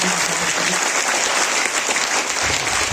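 Loud, dense applause from an audience fills the whole stretch, steady and close with no voices over it.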